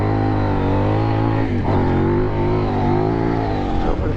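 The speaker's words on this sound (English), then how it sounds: "Bike's working a little harder, so I'm going to shift up into third now." Kove 800 Rally adventure motorcycle laboring through deep sand, its engine droning loud and steady and close up, with a brief dip in pitch partway through as the revs shift.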